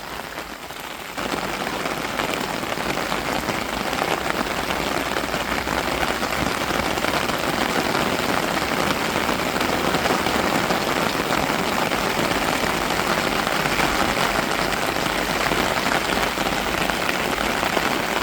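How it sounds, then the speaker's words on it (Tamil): Heavy, steady rain pours down in a dense, continuous hiss, loud and close throughout, with a faint low engine-like rumble underneath. "நல்லா மழை பெய்யுதுங்க."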